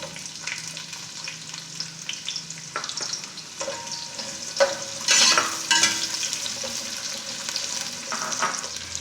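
Onions fry in hot spiced oil for chicken biryani, giving a continuous close sizzle with bursts of louder crackling and occasional stirring scrapes, and no voices.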